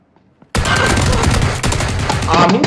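Loud, close automatic gunfire bursts out of near silence in PUBG Battlegrounds, a dense rattling fusillade of rapid shots lasting a couple of seconds.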